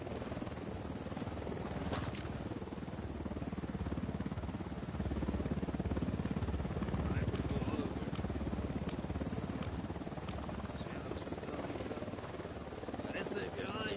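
A steady, loud rotor rumble from a helicopter in the video game Ghost Recon Wildlands, continuous throughout with a few faint clicks and sparse talk mixed underneath.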